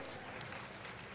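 Brief burst of audience applause at a creativity presentation, a dense, even patter of clapping filling the whole moment.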